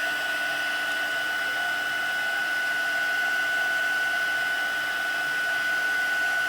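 A hair dryer blows steadily on a watercolour card, a continuous, even whooshing hum with a thin high whine, unbroken and close for the whole stretch.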